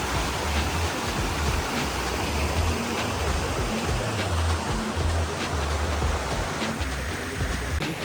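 Thudugala Ella, a waterfall near the sea running low in the dry season, roars as a constant dense rush of falling water, loud and close with no break.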